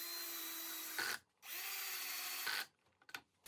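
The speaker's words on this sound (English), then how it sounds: "Using my pocket hole jig, I drilled 1 at each mark." Power drill boring pocket holes through a pocket hole jig into wood for a French cleat jigsaw holder, two sustained whining bursts close up separated by short pauses, then a brief final blip, no talking.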